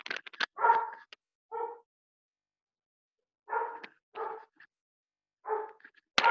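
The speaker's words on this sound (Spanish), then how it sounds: "Acá hay muchos ruidos circundantes, que es mi perro que está saliendo." A pet dog barks indoors in short bursts, a few quick yips at first and then single barks spaced out by silence, fairly close but not loud.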